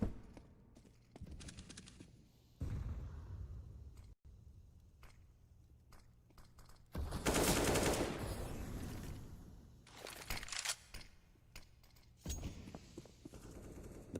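Pistol fire in a Counter-Strike match on Mirage, heard as scattered sharp shots and short bursts at varying distance among footsteps and game noise, with one longer loud burst in the middle.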